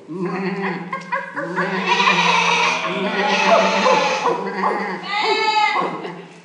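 Sheep bleating on a cold desert night, a run of wavering, voice-like bleats that overlap and carry through most of the stretch, loud and close.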